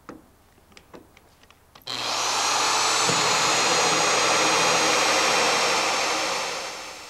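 After a few light taps, a power drill with a 1.5-inch hole saw whines loudly and steadily for several seconds, cutting out a filler neck opening on a Cobra kit car close by, then winds down.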